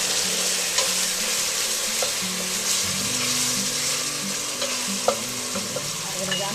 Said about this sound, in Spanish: Ya la cebolla, como ven, está dorando